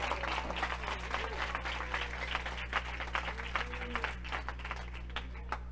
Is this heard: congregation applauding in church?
yes